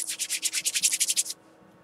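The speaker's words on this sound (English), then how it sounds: "What that does is it dry felts it a little bit, and I just rubbed it far enough down to make my first loop." Hands rub a yarn end back and forth to dry felt it, making about a dozen quick, even swishing strokes close up that stop abruptly, followed by near silence.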